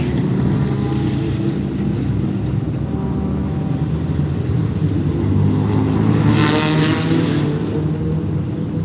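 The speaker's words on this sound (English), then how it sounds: "See, that's the cars. Cool, eh? Oh, they're doing their first round track." Vintage cars complete their first lap at an annual vintage car race in Northam, a steady engine roar passing nearby with a rising whoosh as one goes by.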